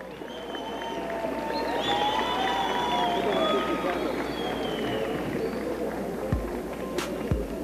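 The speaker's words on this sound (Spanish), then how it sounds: "Les pido un aplauso grande para él." An audience at a taekwondo tournament in Bogotá applauds and cheers in a sustained, loud burst that swells and then holds. A commentator's voice and whistling carry over the noise, and two sharp knocks land near the end.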